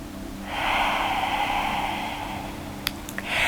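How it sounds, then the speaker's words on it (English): A deep breath taken during a lying-down stretching exercise, a long airy inhale swelling and fading over about two seconds, close to the microphone, followed by a few faint clicks. "And we'll just take a deep breath there."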